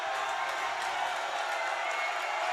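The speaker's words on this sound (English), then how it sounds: "Crowd really making the most noise it's made all season" A dense, loud roar from a volleyball crowd in a packed gym at a women's quarterfinal match, a continuous wash of cheering and shouting with a voice talking over it.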